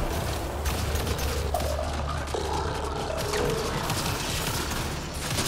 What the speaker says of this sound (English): I'm beginning to love this shotgun.